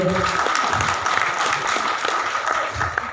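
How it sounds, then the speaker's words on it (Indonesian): Audience applause at a speech or gathering, steady clapping from a crowd heard throughout at moderate loudness with some voices mixed in. "Tepuk tangan untuk Bang Jo."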